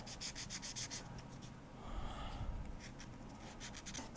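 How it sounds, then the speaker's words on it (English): A sanding sponge rubs against bronze clay on a jewelry piece in quick, soft, scratchy strokes, close and quiet, with no talking. "So I'm using a sanding sponge."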